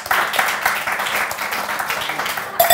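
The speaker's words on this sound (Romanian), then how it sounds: "Aplauze pentru asta!" A short burst of applause from a small group, dense clapping that stays fairly even for a few seconds.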